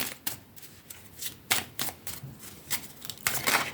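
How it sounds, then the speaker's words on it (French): Oracle cards being shuffled and drawn by hand, a series of quick riffling and flicking bursts at an uneven rhythm, close and fairly quiet, with no speech. "On va tirer comme à chaque fois une petite carte de l'oracle des couleurs"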